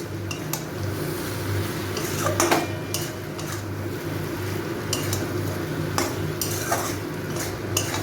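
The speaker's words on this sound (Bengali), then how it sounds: "ঢাকনাটা এবার খুলছি।" Metal clanks and clatters of a pot lid and cookware, a few sharp knocks over a low steady hum of dried Bombay duck fish frying.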